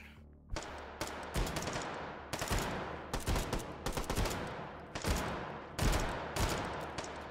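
Loud, close gunfire in the VR shooting game H3VR comes as a rapid run of sharp shots in uneven bursts, with brief gaps between volleys.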